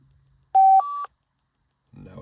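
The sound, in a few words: car phone beep on Bluetooth pairing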